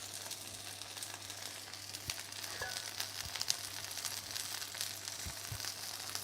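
Onions fry steadily in a hot pan as they char and brown, a constant close hiss of sizzling with scattered crackles and occasional soft stirring knocks, under a low steady hum.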